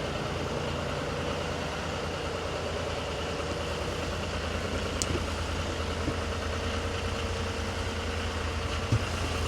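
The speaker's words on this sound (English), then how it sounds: "I like to leave that tractor running for a little while just to make sure that battery stays charged up." A ranch tractor engine idles steadily at close range in snowy weather, a continuous low mechanical drone with even rhythmic pulsing and no speech.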